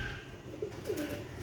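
Sialkoti black-faced pigeons coo softly nearby, two or three short, low, throaty calls over a faint background hush, with no talking.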